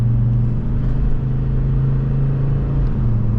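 A Volvo XC70 drives along with a steady, close, low engine drone and road rumble, holding an even pitch with a slight dip where a gear change seems to pass.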